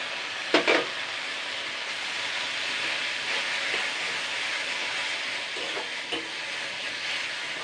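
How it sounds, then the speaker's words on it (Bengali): Jute leaves frying in a pan while being stirred, a steady moderate sizzle broken by a few sharp scraping clinks of the spoon, near and without voices. "দুই মিনিট মতন হালকা নাড়াচাড়া করে নেব"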